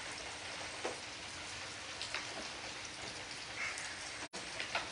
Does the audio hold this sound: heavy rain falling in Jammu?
yes